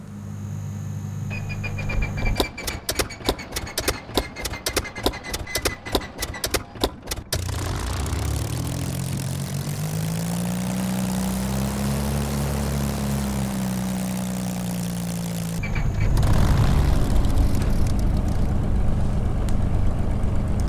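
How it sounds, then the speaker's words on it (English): A Spitfire Mk IX's Merlin engine in Microsoft Flight Simulator coughs through sharp popping bursts on startup, then settles into a loud, steady drone that swells and fades, ending in a louder roar. "So I'm going to move back so we can hear the lovely sound of the Merlin engine."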